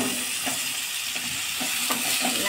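Chopped bottle gourd being turned in a hot pan, a steady hiss with soft scraping strokes of a spoon at irregular intervals, close and fairly loud, no voices.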